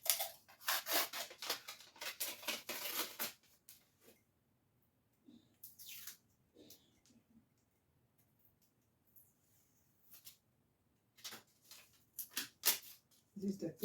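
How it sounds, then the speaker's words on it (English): Sublimation transfer paper being peeled off a freshly pressed, still-hot tumbler, giving bursts of crinkling, rustling paper noise that come and go with quiet gaps between them. "This is the t-shirt paper right here that I'm removing."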